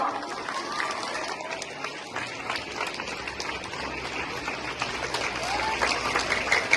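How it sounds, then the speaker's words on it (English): Steady applause from a crowd at a school event, dense clapping that continues throughout without talk. "And after they come, please clap."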